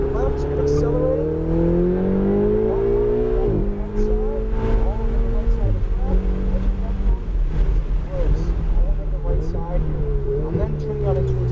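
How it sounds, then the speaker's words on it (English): Ferrari 488 GTB on a track, its engine pulling hard and loud close by, revs climbing in steady sweeps with brief drops at gear changes, under an instructor's talk. "Get back towards your left and accelerating."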